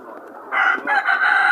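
A rooster crows loudly and close by at a poultry market in Dörtyol, Hatay, one strained, drawn-out call rising after a brief low murmur, with no talking over it.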